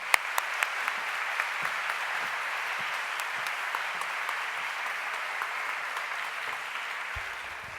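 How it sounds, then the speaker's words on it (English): A large audience claps warmly and continuously for the mayor of St. Louis at a fashion event, a dense, even wash of hands that holds steady throughout and eases slightly at the end. "So let's please give her a round of applause."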